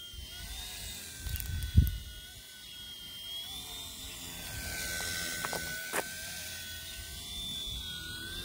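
A small C129 V2 RC helicopter performs an automatic takeoff, its rotor whirring in a high, steady buzz with pitch sweeps, close to the recorder; a brief thump of handling comes early.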